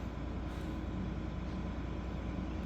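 The engine of an International TD-6 crawler tractor, freed after being locked up, idles in a steady, loud, low rumble that continues evenly throughout with no talking.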